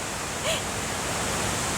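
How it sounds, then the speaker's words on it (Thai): Waterfall on the Dalälven river in Sweden at Laxön, a steady broadband roar of falling water, close and constant, with a brief faint tonal chirp near the start and no talk. "สุดยอดเลยน้ำตกของประเทศสวีเดนค่ะ"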